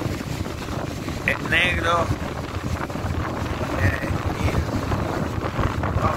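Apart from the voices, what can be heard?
wind on a beach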